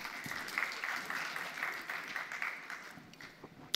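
Steady applause from an audience, dense and sustained, tapering slightly near the end with a sharp final clap.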